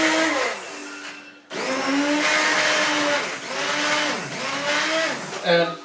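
Hand blender pureeing apple and cauliflower curry soup, a loud whirring motor that cuts out briefly, then restarts and runs with dips in pitch as the blade bites into the chunks.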